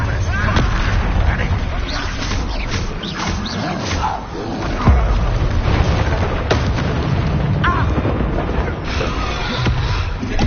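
In Hogwarts Legacy combat, an Incendio fire spell erupts amid a dense, loud barrage of booming blasts and crackling bursts that continues without letup.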